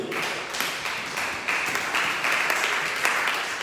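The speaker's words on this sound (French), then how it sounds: "Acclamez-le." A church congregation applauding, a steady wash of clapping that swells slightly partway through, moderately loud in a large room.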